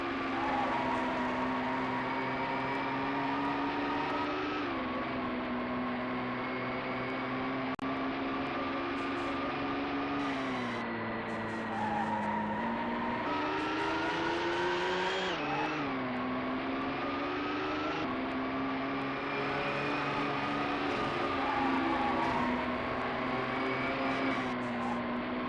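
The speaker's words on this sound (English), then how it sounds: "Seems like they have a couple of different sounds for the engines of the different cars." Race car engines in the video game GT 64 whine continuously, pitch rising and falling with gear shifts and acceleration, loud and unbroken with no talk.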